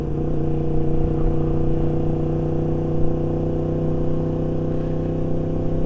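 A motorbike fitted with an Akrapovic exhaust rides in gear at steady speed, its engine giving a continuous droning hum with a steady low rumble and no break, heard from on the bike.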